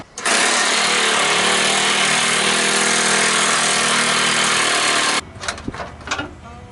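A loud, steady, rattling roar from a power tool working a seized bolt on an Integra car door hinge runs for about five seconds, then cuts off, leaving a few faint knocks and clatters.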